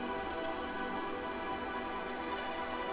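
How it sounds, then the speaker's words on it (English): A squeaky synth pad from Omnisphere holds as a steady, dense, unbroken tone, soft and even throughout, with no voices. "Then I add some squeaky pad."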